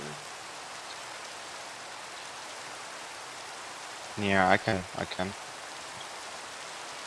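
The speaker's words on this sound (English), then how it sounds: "The rain is kind of killing my frame rate." Steady rain falls in Minecraft VR as a continuous hiss of even noise throughout, while someone speaks briefly partway through.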